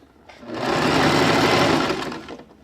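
A sewing machine runs in one continuous stitching burst while sewing a draped jacket, its motor whirring up, holding steady close by, then winding down, with no talk.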